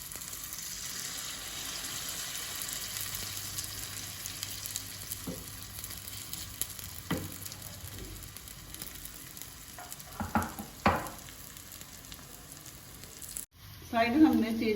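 Rice pancake frying in oil in a pan, a continuous soft sizzle with occasional clinks and scrapes of a utensil, ending in a sharper burst of sizzling as the pan is disturbed.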